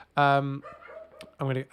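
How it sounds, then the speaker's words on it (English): A dog barks twice indoors, fairly close, two sharp tonal barks with a short gap while someone speaks briefly between them. "That is my dog barking at the dogs."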